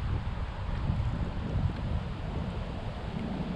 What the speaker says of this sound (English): I do have the wind on my back right now.